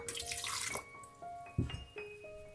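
Apple cider vinegar is poured for a dipping sauce, a brief splashing trickle of liquid lasting under a second, followed by quiet kitchen clinks and faint tones.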